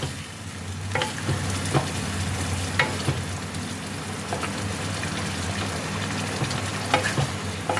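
Paneer masala with a little water in a pan, bubbling and sizzling under regular scraping stir strokes, close and steady with no talk.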